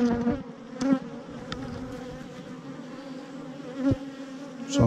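Honey bees swarm around an open hive during an inspection in Texas, a dense, continuous buzzing close to the listener, with individual bees flying past the ear in brief louder swells.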